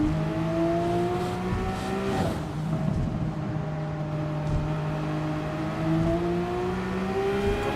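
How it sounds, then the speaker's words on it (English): Porsche 911 GT3 RS race car engines drone steadily at high revs as they drive through puddles, a hiss of spray kicked up beneath them, with a brief burst of splashing. "You hear the water being kicked up under these cars"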